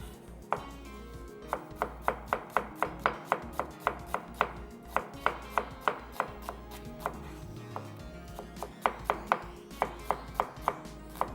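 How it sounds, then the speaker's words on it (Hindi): Onions are sliced with a knife on a board, a quick regular series of crisp close chops, about two per second, over a low background hum. "प्याज को कर लेते हैं स्लाइस"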